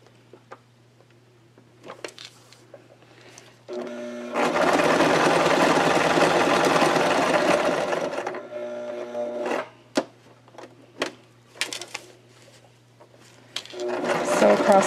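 A sewing machine stitches across the bottom of a fabric pocket in one loud, steady run of about four seconds, set between short clicks and handling noises, with a second burst starting at the end; a person talks in the pauses.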